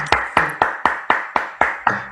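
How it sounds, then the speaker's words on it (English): A crowd claps hands in a steady rhythm, about eight sharp, evenly spaced claps in quick succession, close and fairly loud with no talking. "Clap hand for Jesus"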